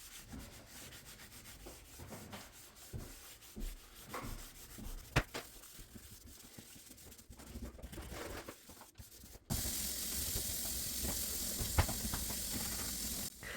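A hard-bristled cleaning brush scrubs a messy stovetop in short rubbing strokes, close and fairly quiet, with a louder steady hiss taking over near the end.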